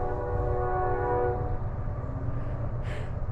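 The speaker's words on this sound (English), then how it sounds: "Ain't it great to be back in central New York? We get the trains going." A train passes in central New York, sounding its horn as a sustained chord over a steady low rumble of wheels and cars that stays loud and near for the whole stretch.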